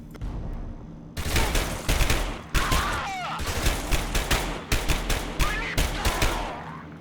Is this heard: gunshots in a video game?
yes